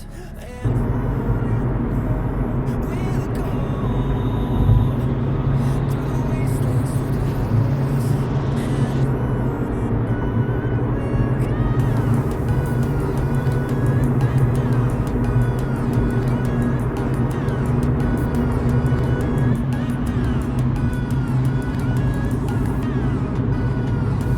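Car driving at night, heard from inside the cabin: a steady low engine and road rumble that runs throughout at an even level, with no talk.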